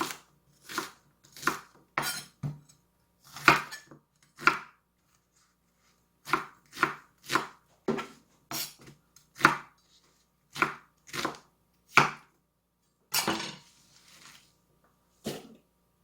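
Sharp knife chops through small onions on a cutting board in irregular bursts, close and crisp, with short silent pauses between quick runs of cuts.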